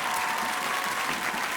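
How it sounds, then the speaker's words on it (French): Dense, steady audience applause fills the room, a broad wash of clapping from a crowd, continuous and evenly loud for the whole brief moment. "On peut l'applaudir très fort."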